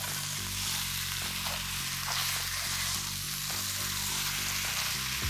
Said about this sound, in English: I'm going to just nicely mix it up with the masala.